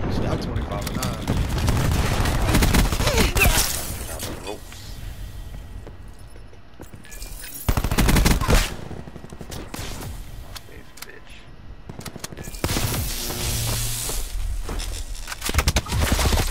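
Bursts of AK rifle and automatic gunfire from a shooter video game, loud and repeated in clusters across the clip with game effects and a voice talking over it.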